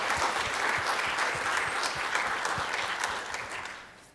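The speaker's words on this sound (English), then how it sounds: "let's give Dr. Laybourn a round of applause" Clapping from a campus audience after a guest speaker's talk, a steady round of applause with individual claps audible that gradually thins out near the end.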